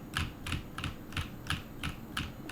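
Keystrokes on a computer keyboard come in an even series of about eight crisp clicks spaced roughly a third of a second apart, close and clear with no talking.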